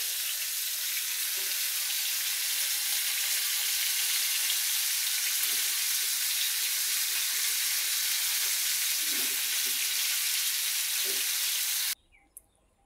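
Fish frying in oil in a pan, a continuous bright sizzle with occasional low pops and bubbles, ending abruptly near twelve seconds in quiet; no speech.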